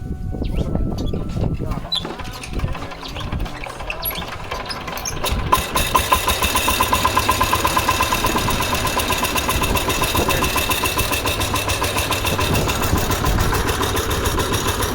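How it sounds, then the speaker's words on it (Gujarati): A small farm tractor, a low-cost subsidised model started by hand crank, idles in a steady, loud mechanical chug that begins a few seconds in and runs continuously after a stretch of talking and clatter. "ભાગીદાર હકાલે છે ટ્રેક્ટર"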